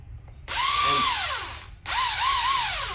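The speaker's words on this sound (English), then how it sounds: "So that's what we're using to get those bolts out" A 3/4 inch impact wrench runs in two loud bursts, each a dense high whir whose pitch dips and swells as it works, split by a short silent gap.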